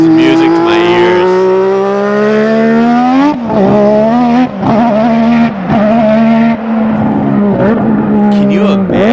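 The engine of a McLaren Honda MP4/4 Formula 1 race car screams loudly and close at high revs, pitch climbing and dropping with several sharp gear changes and throttle lifts.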